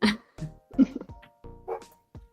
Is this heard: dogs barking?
yes